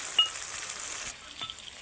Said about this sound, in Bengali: দিয়ে দিলাম টমেটো আর কাঁচা লঙ্কা কুচি।